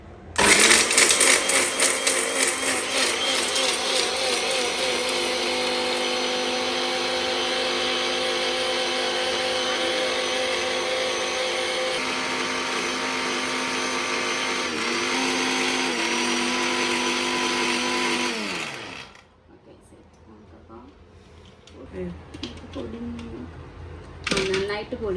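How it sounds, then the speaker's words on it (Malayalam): A kitchen mixer grinder whirs loudly and steadily while grinding almonds into powder for blueberry muffins, running for about eighteen seconds before winding down and stopping, followed by quiet clatter and a few voices. "നമുക്കിത് അടിച്ച് വെച്ചിട്ട് നന്നായിട്ടൊന്ന് പൊടിച്ചെടുക്കാം"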